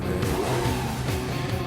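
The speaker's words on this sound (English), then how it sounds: "noticed that car sound" A car engine revving hard in a rock song, a loud, close, throaty roar with rising and falling pitch, standing alone without music or voices.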